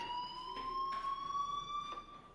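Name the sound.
fire alarm ringing in video game Life is Strange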